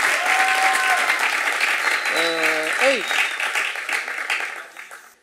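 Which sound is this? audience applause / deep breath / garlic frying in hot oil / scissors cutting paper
audience applause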